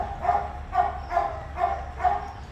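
Beagle puppies at a Humane Society campus yelp in a steady series of five evenly spaced barks, close and clear, with no one talking over them.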